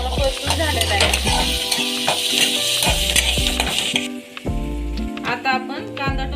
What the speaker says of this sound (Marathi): टोमॅटो आपला चांगला परतून झालेला आहे